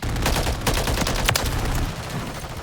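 Rapid weapon gunfire in Call of Duty MW3 played on a controller, a dense continuous stream of shots with heavy low rumble, loud and sustained throughout.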